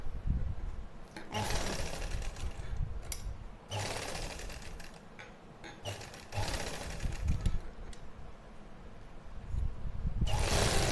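A sewing machine runs basting stitches along a suit neckline in three long, loud rattling bursts, separated by brief pauses, with a final burst starting at the end.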